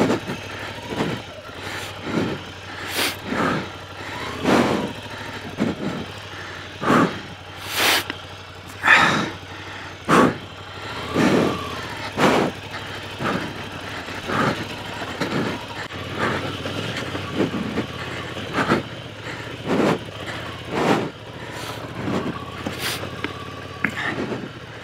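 A motorcycle idles and putters at very low speed through hairpin bends on an Alpine mountain road toward the Parpaillon tunnel, its engine near and steady with repeated short throttle blips and breathy wind bursts.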